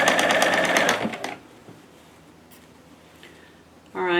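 A sewing machine stitches fabric with a fast, loud rhythmic chatter for about a second, then cuts out, leaving quiet room tone before a brief voice starts at the end.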